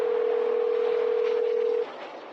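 A telephone line gives a steady, loud dial tone for almost two seconds and then cuts off, leaving a quieter background hiss.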